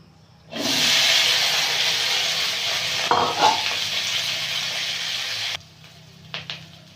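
Broad beans hit hot oil in a kadai and burst into a loud, steady hiss and sizzle that runs for several seconds. It drops off abruptly, followed by a few faint stirring clinks.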